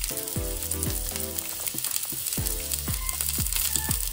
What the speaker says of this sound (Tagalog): Nilalagay ko na itong sibuyas